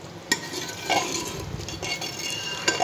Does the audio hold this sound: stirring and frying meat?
yes